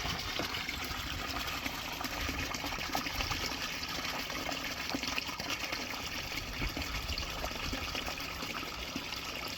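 Koi pond water being pumped away to a garden drain makes a steady gushing, splashing flow throughout, with a man's brief words over it.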